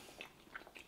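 Chocolate keto pudding with nuts being eaten, with a few soft, close bites and chewing crunches spread over a second in a quiet room.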